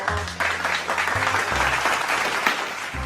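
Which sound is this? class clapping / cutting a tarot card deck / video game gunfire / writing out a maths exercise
class clapping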